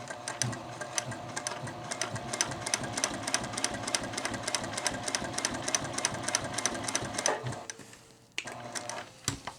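A Juki TL-2010Q semi-industrial sewing machine stitches through two layers of 4-ounce chrome tan leather, a fast, even mechanical clatter of rapid needle strokes that runs steadily, then stops with a couple of small clunks near the end.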